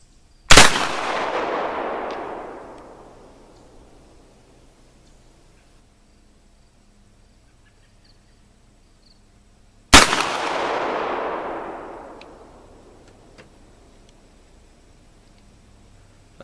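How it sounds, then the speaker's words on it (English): Two loud, close shots from a Thompson Center Hawken muzzleloader rifle loaded with patched round ball and 60 grains of Pyrodex, fired at an outdoor 50-yard range, each sharp blast followed by a long rolling echo fading over about two seconds, well apart. "here's another shot with 60 grains"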